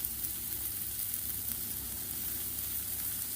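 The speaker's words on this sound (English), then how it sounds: "I'm going to throw in a bit more butter with our mushrooms here." Butter and mushrooms sizzle on a Blackstone griddle, a steady, close hiss of frying that runs evenly throughout with no talk.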